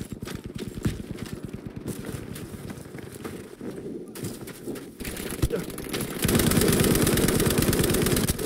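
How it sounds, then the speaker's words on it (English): A Lewis machine gun fires in Battlefield V in long, rapid bursts of sharp rattling shots. The fire is near and loud, with a brief pause before it swells into heavier sustained firing. "Lewis gun."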